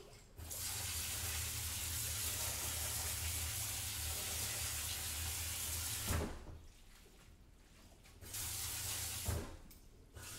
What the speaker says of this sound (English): I'm just going to give it a quick rinse with cold water to stop the noodles from cooking.